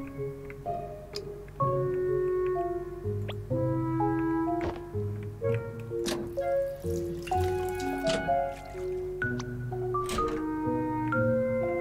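Water dripping and trickling in A Bird Story, drops and splashes mixed with soft melodic tones, no talk.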